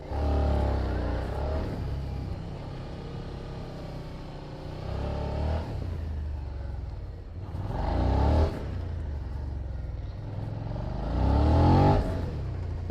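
A 2021 Suzuki SV 650 motorcycle working through a gymkhana cone course, its engine revving and dropping in repeated surges as the rider accelerates, brakes and turns, loud and close throughout without speech.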